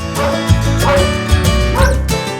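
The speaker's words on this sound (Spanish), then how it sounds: "El perrito de la familia nos recibe a viva voz." A family dog barks several times in quick succession, loud and close, with short yips between barks.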